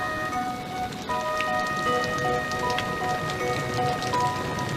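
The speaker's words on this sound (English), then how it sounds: "Rain, rain, go away." Rain falls in a steady, even patter under an umbrella outdoors, with sustained musical tones playing over it throughout.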